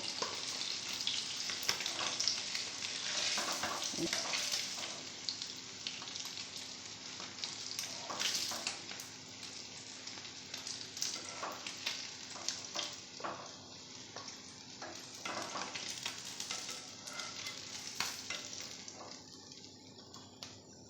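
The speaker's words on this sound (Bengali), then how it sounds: "মাছগুলো লাল লাল করে ভালো ভাজা হয়ে গেছে।" Continuous crackling sizzle of fish frying in hot oil until browned, close and steady throughout, with occasional louder pops and spatters.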